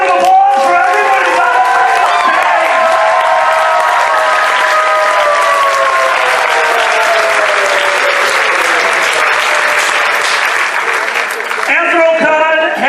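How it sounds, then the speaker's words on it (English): Loud sustained applause and cheering from a packed convention panel audience at Anthrocon after a Whose Line Is It Anyway? improv show, with dense clapping, whoops and shouted voices filling the room throughout. "Let's hear a huge round of applause for everybody."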